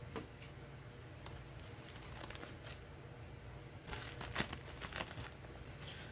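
Scissors snip through coffee filters: soft papery crinkles and several crisp, quiet cutting snips scattered across a faint background hum, close by with no talk.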